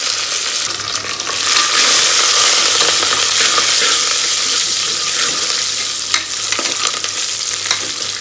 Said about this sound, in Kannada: ಜೀರಿಗೆ ಮತ್ತು ಸಾಸಿವೆ ಎರಡು ಚಟಪಟ ಅನ್ನಬೇಕಾದ್ರೆ ಬೆಳ್ಳುಳ್ಳಿ ಮತ್ತು ಒಣಮೆಣಸಿನ್ಕಾಯಿ, ಕರಿಬೇವು ಇಷ್ಟು ಹಾಕಬೇಕು.